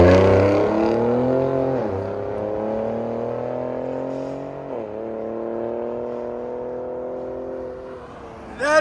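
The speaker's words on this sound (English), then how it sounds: "Ford Raptor with True Dual BORLA attacks" A 2019 Ford Raptor with a 3.5L twin-turbo V6 and Borla ATAK true dual exhaust, resonator still fitted, revs in a loud, deep sustained drone that climbs and dips in pitch twice before a sharp final blip.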